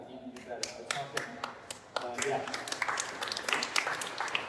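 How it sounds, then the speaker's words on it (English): A round of applause at a Bridgeport city celebration, scattered claps starting sparse and building into a fuller burst, with a voice talking over the first part. "Kathy led that round of applause."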